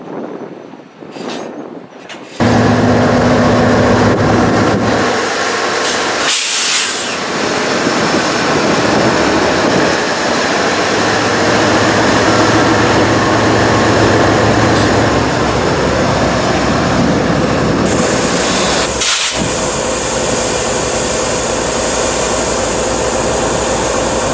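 A heavy Norfolk Southern freight train rumbles past close by, a continuous loud roar of rolling wheels and clattering cars that carries on steadily throughout.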